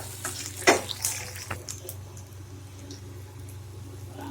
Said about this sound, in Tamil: இப்போ இஞ்சியை போட்டு நல்லா வதக்கலாம்